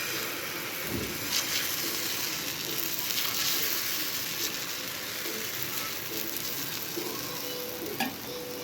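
Malpua batter frying in a hot pan: a steady, even crackling sizzle that holds throughout, with a few faint clinks and soft knocks, close and moderately quiet.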